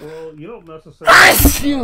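A single loud, explosive human sneeze bursts out right after a man's quiet speech, breaking into a podcast conversation.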